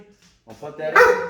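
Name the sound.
dog barking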